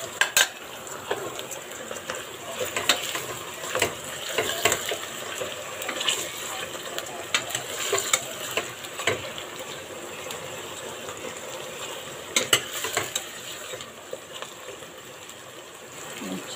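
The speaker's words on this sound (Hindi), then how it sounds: "गोश्त में चलाऊंगी थोड़ा थोड़ा थोड़ा थोड़ा 4 से 5 मिनट तक" Beef for a stew is stirred gently in a pot, the spoon clinking and scraping against the metal again and again in an uneven rhythm over a low, wet bubbling background.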